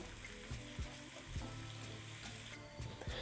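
Chicken karahi ingredients sizzle steadily in hot oil, a soft continuous frying crackle broken by occasional scraping and stirring clinks.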